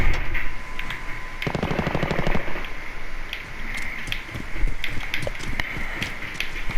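Shotgun fire in the Call of Duty video game: a burst of rapid, loud gun reports near the start, then scattered sharper shots over busy game ambience, with no talking.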